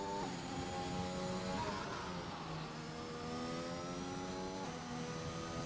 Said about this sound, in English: Upshift for traction.